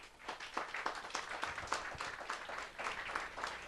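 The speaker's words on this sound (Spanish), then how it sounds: "¿Alguien le puede dar palmas al Señor?" Church congregation clapping together during a sermon, a dense round of many hands striking in a quick steady rhythm, fairly loud and close, with no talk over it.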